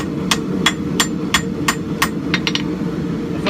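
Damascus steel is forge welded by hand with a hammer, nine sharp ringing blows striking at a steady rhythm, close and loud over a continuous low roar of the forge.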